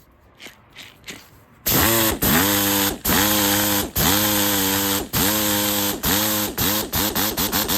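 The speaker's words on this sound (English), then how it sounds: "Something about a die grinder makes a lovely sound, doesn't it?" An air-powered die grinder on compressed air whines loudly and steadily, cutting out and restarting in a string of bursts, with brief quiet gaps that grow shorter toward the end; a few faint knocks come before it starts.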